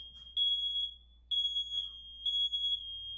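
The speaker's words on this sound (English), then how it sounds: "Set off a smoke alarm." A smoke alarm chirps in steady, piercing high beeps, repeating every second or so, loud and close with no talking.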